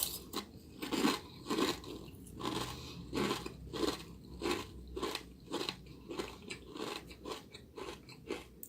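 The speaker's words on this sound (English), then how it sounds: "let me get close to the camera so you guys can hear me chewing" Crunchy cereal being chewed close up, a rapid series of crisp, irregular bites and crunches repeating about every half second, near and distinct against a quiet background.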